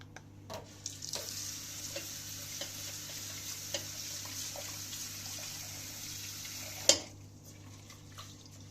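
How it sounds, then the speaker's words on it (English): Quinoa is washed and rinsed in water, giving a soft continuous swishing and trickling with light clicks of grains and a sharp knock near the end, close and quiet. "I washed the quinoa and rinsed it."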